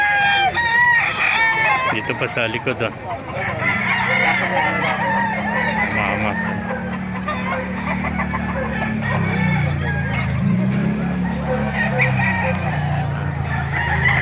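Gamefowl roosters, including Kelso, Gilmore and Hatch Gray birds, crow repeatedly and loudly, close by and overlapping with clucking at an open-air chicken market in Bocaue, Bulacan. Someone talks over the din.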